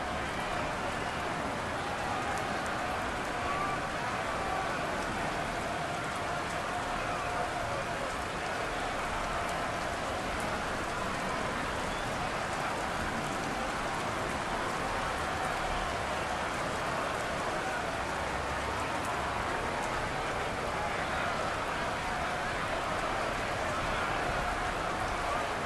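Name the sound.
rain falling, from video game Madden NFL 23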